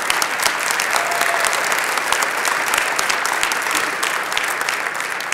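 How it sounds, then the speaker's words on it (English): Loud, dense audience applause at a political grassroots festival in Wisconsin, many hands clapping continuously and evenly from a nearby crowd. "and it must be applauded."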